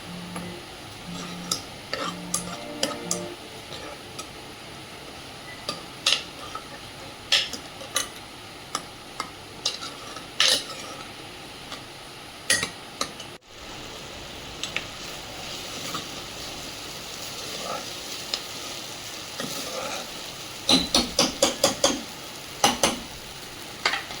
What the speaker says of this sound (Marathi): ही तेलामध्ये आपण व्यवस्थित फ्राय करून घ्यायची आहे 2 मिनिटे